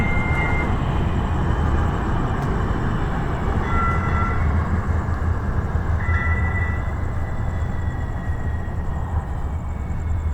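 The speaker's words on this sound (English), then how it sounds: "That's the light rail train." Light rail train passing through a shopping plaza on Main Street in Mesa, Arizona at midnight, a steady broad rumble with faint squealing tones, continuous throughout.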